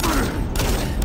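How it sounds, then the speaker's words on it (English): Pistol fire in the shooter game Doom 3: Resurrection of Evil, with a few sharp, loud shots in quick succession over a noisy, continuous game soundscape. "God, this pistol sucks."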